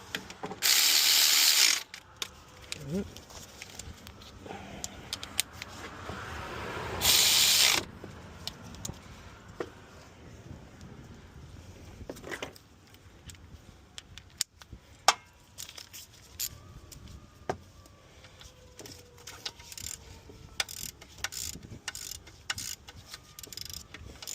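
Ratchet wrench tightening the alternator mounting bolts on a 1997-2004 Dodge Dakota, heard as bursts of close mechanical clicking and clatter with two loud broadband hisses early on and quieter ticks scattered through the rest.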